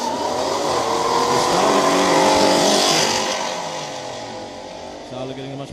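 Toyota Starlet and a 5-litre V8 Mustang launching side by side at a drag race, engines roaring loud and sustained as they pull away, under a commentator's voice.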